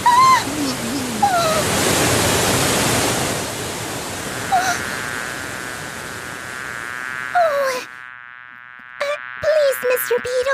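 Cartoon beetle buzzing in flight over a roaring waterfall, a loud sustained drone that swells and fades, with a voice speaking over it and short tones near the end.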